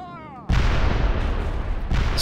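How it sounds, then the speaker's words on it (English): Artillery fire in an Italian Wars battle video game, cannons of the Duchy of Savoy shelling a pike formation from a distance, a loud sustained barrage of booms and rumbling after a brief tonal lead-in. "here they also have artillery and they are firing at our tertius"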